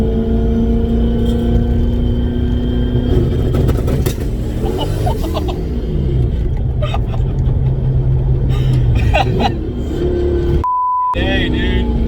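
A car fitted with an anti-lag system is driven hard, its engine roaring loudly and continuously from inside the cabin with pops and bangs and varying revs, while a brief electronic beep sounds near the end.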